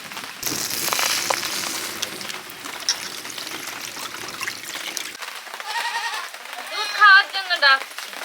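A young goat bleats several times in short, high wavering cries near the end, following background noise and faint pouring sounds.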